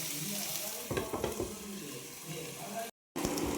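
Ivy gourd and coconut pieces fry in a hot pan with a steady close sizzle, broken by a few stirring scrapes and one brief dropout.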